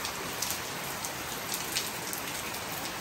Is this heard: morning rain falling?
yes